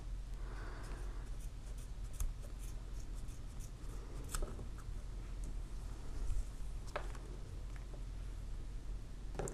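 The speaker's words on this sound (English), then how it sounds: "I'm just going to take my pair of scissors and cut close" Scissors snip through paracord right beside a knot in a quiet room, giving several soft, faint crisp cuts spaced over a few seconds. No one speaks.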